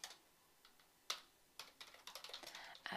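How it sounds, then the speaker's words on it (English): Typing on a computer keyboard while entering offer notes for a property buyer: scattered quiet keystrokes, one sharper tap, then a quicker run of clicks toward the end, faint and alone. "I'm just going to type in here"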